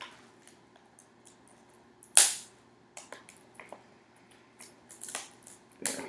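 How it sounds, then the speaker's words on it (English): Scissors snipping through plastic game packaging, a few sharp, close cuts and rustles spaced across a quiet moment, with one louder snip standing out. "Looks like I'm going to have to get out the scissors."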